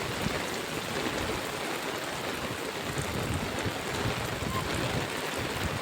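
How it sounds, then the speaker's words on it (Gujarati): Heavy morning rain pours steadily near a flooded creek, a dense, even hiss with no pauses, close and loud throughout. "સવારનો ચાલુ વરસાદ, એક નંબર વરસાદ આવે"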